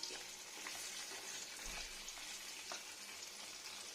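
Paneer fries in ghee with a soft, continuous sizzle heard close by but at low volume. Faint stirring scrapes come through now and then, and no one speaks.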